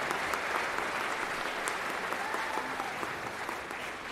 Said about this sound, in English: Let's give all the honorees one more round of applause.